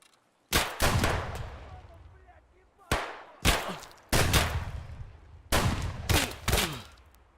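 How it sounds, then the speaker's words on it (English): Gunshots from a nearby enemy in Escape From Tarkov ring out in sharp, loud clusters of two or three cracks, separated by short pauses, each burst trailing off into echo. "I think someone was next to me shooting at me. I heard shots from my left."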